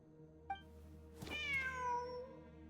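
A cat meows in Genshin Impact, a single drawn-out, rising and falling meow heard clearly over a quiet ambient game background, preceded by a faint soft chime, with no speech.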